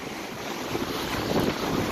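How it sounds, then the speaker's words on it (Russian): Wind blowing outdoors near a bridge on a washed-out road, a steady broadband rush with microphone buffeting, continuous and fairly loud with no talk. "Дует ветер"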